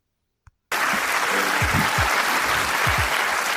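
A brief silence breaks into loud, dense audience clapping that holds steady throughout, with a few low knocks under the applause.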